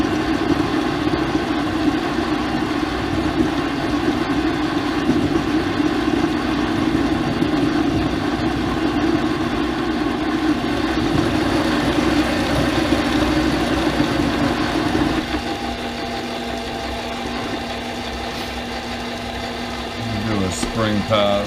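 Pratt & Whitney Model B lathe turning slowly with a steady mechanical hum and rumble, then shifting to a lower, quieter tone near the end as the cut changes, with a voice speaking over it.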